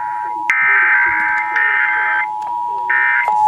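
Emergency Alert System test attention signal: a loud, steady two-tone alert sounding in several long bursts separated by brief gaps, with short data-burst clicks between, alone without talk.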